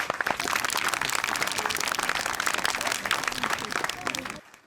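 A crowd claps steadily at an outdoor public ceremony for a tree-planting event, welcoming a rising local political leader; the dense applause stays loud and even for about four seconds, then cuts off.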